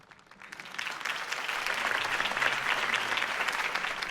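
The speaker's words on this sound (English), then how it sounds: "could have heard that applause" A crowd in the video game Telltale Batman bursts into sustained applause, clapping building quickly and holding steady and dense, with faint cheering mixed in.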